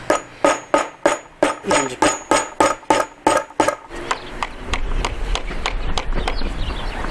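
A hammer strikes a bolster about a dozen times in a steady, even rhythm to split wooden offcuts into wedges for holding flashing, loud and close, before the blows stop and leave only low background rumble.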